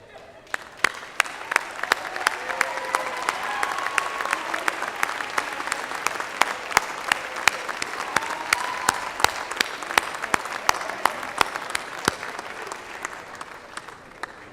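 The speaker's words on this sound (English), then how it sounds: "a round of applause for these new alumni" Sustained audience applause at a spring graduate commencement ceremony, dense steady clapping from a large crowd in a hall with sharp individual claps standing out, continuing without pause.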